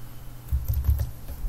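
Computer keyboard keys are pressed close by: a short burst of a few soft, dull taps in quick succession, with no talking.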